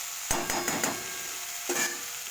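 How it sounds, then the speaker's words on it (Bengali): A spoon stirs a fig and potato curry with spices frying in a pan, a few sharp knocks against the pan, loud and close, over a soft sizzle. "এটা কিছুটা কষতে দিতে হবে। দেখো এটা কিছুক্ষণ নাড়িয়ে"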